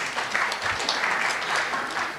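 Audience applause at a TYPO3 technology conference talk, steady dense clapping throughout at moderate level, filling the room without voices.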